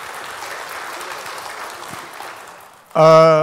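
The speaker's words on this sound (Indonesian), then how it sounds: "Ya tepuk tangan dulu lah buat Metro TV." Audience applause at an Indonesian economic conference session, a moderate spread of clapping across the hall for a TV station host that fades out, followed by a sudden loud tonal burst at the end.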